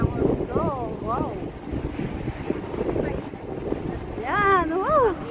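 Wind buffets the microphone on a boat ride in Singapore near Marina Bay, a constant low rumbling roar, with people talking and voices rising over it.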